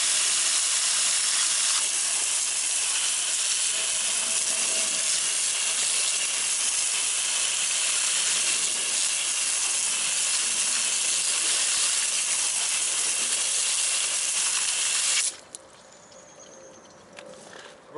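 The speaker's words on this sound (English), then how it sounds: "let's move the camera back and hose this guy down" A garden hose sprays water onto a car wheel during a wheel cleaner wash, producing a loud, steady broadband hiss that runs without a break for about fifteen seconds before it cuts off abruptly.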